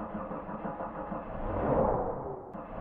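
A car engine starts up in the horror game PARANOID Night Guard, a low rumbling crank that swells and settles into a steady running hum for a few seconds, with no voices.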